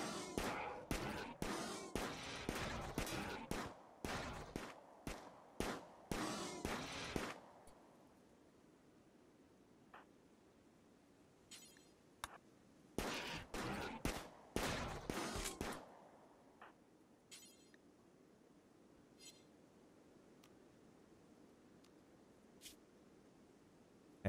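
Colonists in the colony-building game Rimworld fire guns in two dense bursts of rapid, sharp shots, followed by scattered faint shots and quiet background.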